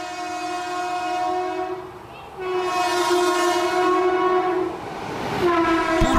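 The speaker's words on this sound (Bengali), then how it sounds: "বেগে প্ল্যাটফর্মে ঢুকলো ট্রেনখানা।" A train pulls into a station platform, its horn sounding in long sustained blasts that break off briefly and resume, over rolling wheel clatter and rumble, loud and close.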